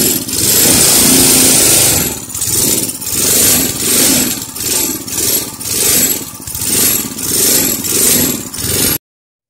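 A small 3 horsepower engine on a torque converter project, running loud and close with a rough, pulsing rhythm as its speed surges and dips repeatedly, then cutting off abruptly.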